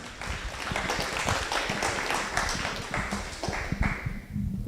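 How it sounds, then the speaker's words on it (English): A conference audience gives a round of applause for entrepreneurs after a session on data centres, moderate scattered clapping from a modest crowd that tapers off toward the end. "so let's give them a round of applause"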